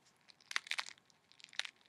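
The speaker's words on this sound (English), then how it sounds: "Listen to this crunch." Someone bites into a sandwich topped with potato chips, giving a few quick, crisp crunches and crackles up close in a short burst.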